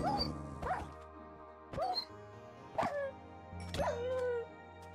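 A dog-like monster in modded Minecraft gives about five short yelping barks and whines, each a sharp separate burst with brief gaps between them, loud and close, with no talking over them.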